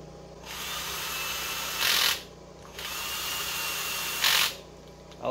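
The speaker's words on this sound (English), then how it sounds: "I like to use the drill because I can use the clutch set really low." A cordless drill with its clutch set very low drives the cam cap bolts on a 1989 Yamaha XT350 engine during a refresh. It whirs in two steady bursts, and each ends in a brighter, louder clutch-slip ratchet.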